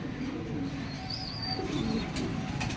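Soft, low coos of teddy pigeons murmur faintly against a steady background hum, with a light rustle toward the end.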